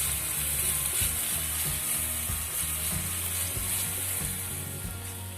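Vegetables with garlic and chopped cashew nuts sautéing in a pan for paneer pizza topping, a steady close sizzle with a low rhythmic scraping or stirring underneath, no voices.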